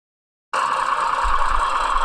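A steady mechanical engine roar cuts in abruptly and holds loud and constant, with a low rumble building underneath as the RPM climbs toward a runaway.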